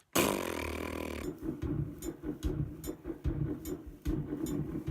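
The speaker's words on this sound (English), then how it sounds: "It's got a little microphone right here that you can use for sampling fart sounds, thusly." Sampled fart noise played back on a Casio SK-1 keyboard, a short burst of loud low blats with a musical accompaniment, repeated in a choppy rhythm close up.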